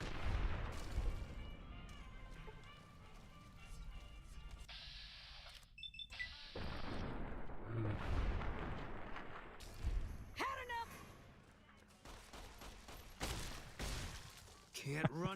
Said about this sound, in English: sever them limb from limb purely with a shotgun